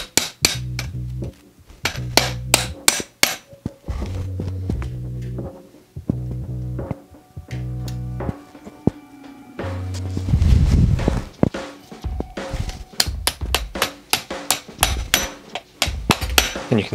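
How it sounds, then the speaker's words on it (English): Stacked razor blades are hammered under a bicycle fork's crown race, giving loud, close, sharp metallic blows in quick bursts of several strikes separated by short pauses. "and hammer them in."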